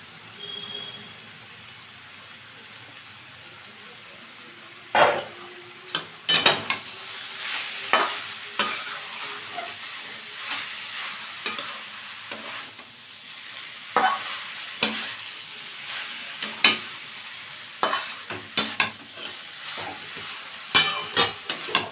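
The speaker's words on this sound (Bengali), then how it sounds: "ধনে পাতাটা একটু মিশিয়ে নিলাম।" Coriander leaves stirred into beetroot frying in a pan: a soft background sizzle broken by sharp, irregular scraping and clanking stir strokes that grow busier and louder after the first few seconds.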